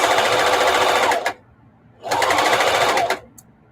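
A sewing machine stitches a quilted mug rug in two loud, close bursts of rapid whirring, each about a second long, with a short quiet pause between them.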